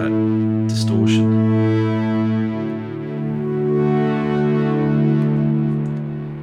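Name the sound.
Lyrebird echo effect with distortion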